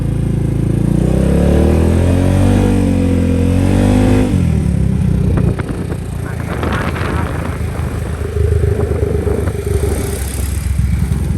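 A Yamaha XMAX 300 scooter engine idles with a steady low drone, then revs sharply a few times before settling back to a rough idle, close and loud.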